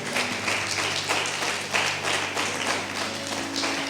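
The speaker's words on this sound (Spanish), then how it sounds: "¿Por qué no le das un fuerte aplauso a nuestro Señor en esta hora?" Congregation applauding during a church conference service, a steady wash of clapping with faint rhythmic taps, sustained throughout with no clear speech over it.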